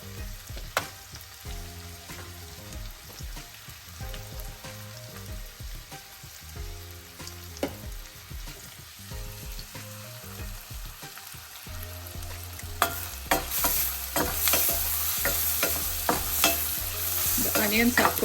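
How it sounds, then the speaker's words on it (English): Onions frying in a pan for mutton palak, with steady sizzling and frequent stirring scrapes and clinks, growing louder and more crackly near the end. "The onions are cooking."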